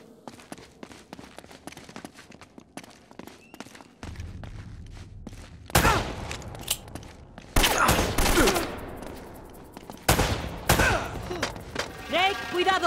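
Gunfire in Uncharted: Drake's Fortune: bursts of shots and fusillades, loud and near, in repeated clusters with thumps and footsteps between, beneath rising in-game chaos.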